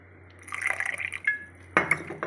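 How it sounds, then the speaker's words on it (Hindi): Water is poured into a bowl of cornflour and flour batter, with soft splashing and liquid trickles close up, then a brief clink of a utensil against the bowl. "इसमें और पानी डालूंगी थोड़ा सा"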